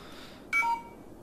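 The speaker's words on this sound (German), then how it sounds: "Das war mein Handy, tut mir echt leid." A mobile phone gives a short electronic beep lasting about a quarter second, standing alone over a faint steady background hum.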